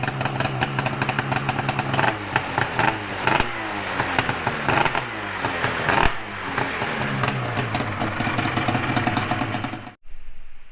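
A 2022 Arctic Cat Alpha snowmobile engine fitted with a Speedwerx L2 exhaust runs and revs hard with a raspy, buzzing two-stroke tone, blipping up and down before cutting off abruptly near the end, loud and close.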